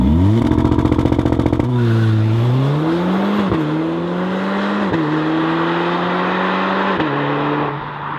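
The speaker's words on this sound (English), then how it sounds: "I can release the brake and the car jumps to the front." Mercedes-AMG A45 launch control: the engine holds at high revs with a rapid stutter, then the car leaps forward and accelerates hard through several gear shifts, each marked by a brief drop in pitch before the loud roar climbs again.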